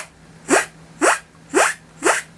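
A beatboxer imitates a zipper with the mouth, making four sharp rising zips in an even, quick rhythm, loud and close with no talk.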